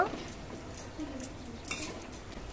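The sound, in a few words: flipping frying sweet goja in pan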